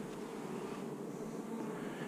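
A steady, close hum of honey bees buzzing in a two-frame nuc hive, an even drone that holds without break over the short stretch.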